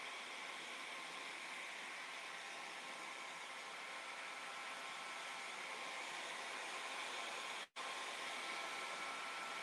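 A heat tool blows a steady, fairly quiet whooshing rush while warming bendable wood, continuous apart from one brief cutoff near the end, with no talk.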